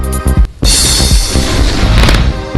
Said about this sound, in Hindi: यूक्रेन के सेवस्तोपोल में रूस का मिसाइल हमला